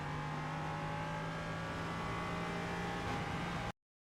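In the iRacing video game, a Ligier JS320 LMP3 race car at Brands Hatch accelerates hard, its engine a steady, loud, close whine that holds pitch and then cuts off abruptly to silence.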